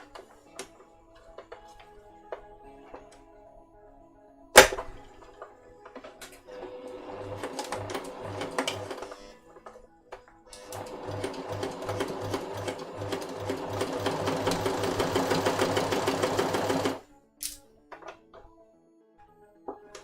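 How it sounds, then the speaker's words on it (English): A sewing machine stitches together the hood of a kid's jacket, running in long steady bursts of rapid mechanical chatter with quiet pauses and small clicks between, close and clear. "So now I'm just stitching together the hood"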